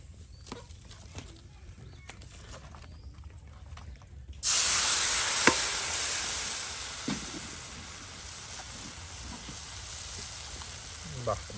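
Fish coated in cumin and garlic paste hits hot oil in a village kitchen, setting off a sudden loud, steady sizzling hiss that holds on and slowly settles. Before it starts there is only quieter background noise.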